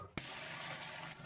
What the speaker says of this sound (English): Now you can throw a bit of water in there